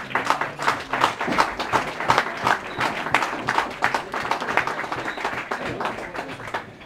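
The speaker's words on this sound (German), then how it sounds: "deswegen gibt es auch heute einen Applaus" Clapping in the room at an ice hockey press conference for EHC Bayreuth and VER Selb, a fairly close group of hands beating in a loose, uneven rhythm that swells and tapers slightly toward the end.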